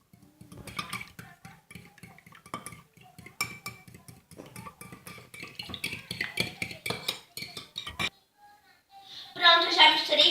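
A spoon knocks and scrapes against a bowl while stirring a pudding mixture of egg and condensed milk, giving quick, close clinks in uneven bursts, a person talking over it and a brighter stir near the end.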